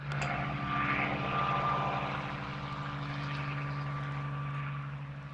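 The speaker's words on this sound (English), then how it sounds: "Using helicopters to chase and frighten the horses" A steady, droning helicopter engine with a low rhythmic rotor thump as it chases wild horses during a roundup, holding fairly loud and constant throughout with no voices.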